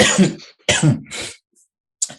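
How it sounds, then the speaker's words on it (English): A man clears his throat, two harsh rasping bursts in quick succession followed by a short faint catch, close to the microphone with no speech. "I had to clear my throat of all this business."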